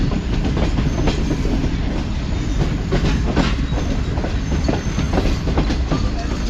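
The 42 Down Karakoram Express, running between Lahore and Karachi, roars past close by in a loud, continuous rumble of rolling wheels with a steady clickety-clack over the rails.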